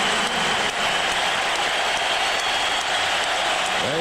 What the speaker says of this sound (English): get his just due, a standing O from the sellout crowd here at the bat